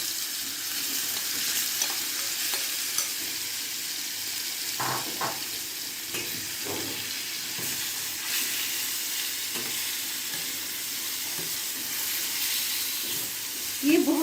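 Chicken pieces fry in oil in a pan on a stove, a steady close sizzle with brief crackles and a few stirring scrapes running throughout.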